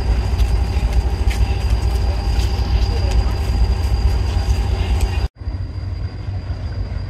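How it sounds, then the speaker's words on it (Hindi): Shah Hussain Express passenger train departing Karachi, a loud continuous rumble of rolling railcars with faint rhythmic clicks, heard close, with a brief cutout near the end. "शाह हुसैन एक्सप्रेस 43 अब कराची से रवाना होके अपने अगले स्टॉप की तरफ जा चुकी है"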